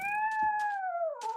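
Injured cat in a modded survival video game giving a single drawn-out, sliding meow that drops in pitch, loud and close, with brief clicks underneath.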